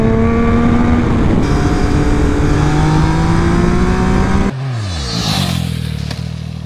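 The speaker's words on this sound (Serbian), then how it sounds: "još jedan kineski trocilindraš, 95 konjskih snaga u verziji za evropsko tržište" A 2025 Zontes 703RR three-cylinder motorcycle being ridden, its engine a loud, steady, close droning hum whose pitch slowly climbs, then drops and shifts near the end as the revs change.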